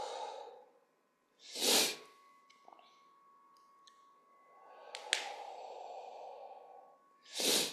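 Slow, audible exhales during a foot and hip mobility exercise, several breathy whooshes spaced seconds apart, close and soft with no talking.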